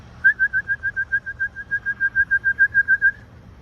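Racing pigeons in a backyard loft area give a steady run of about twenty evenly spaced, loud, clear whistling pulses over roughly three seconds, alone with faint background noise.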